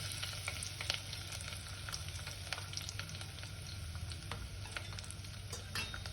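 Dry fruits and grated sweet potato fry in hot ghee in a pan, giving a steady, close, continuous sizzle with scattered crackles and pops throughout.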